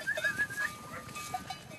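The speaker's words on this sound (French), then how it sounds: "Après avoir regroupé les 200 chèvres, c'est le départ." A herd of about 200 goats gathered on a Corsican mountain path, faint bleats and calls rising over a soft outdoor hum and shuffling, heard from a short distance.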